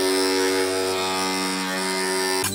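A powerful electric massage device buzzes loudly and steadily at close range, a harsh constant hum that cuts off abruptly near the end.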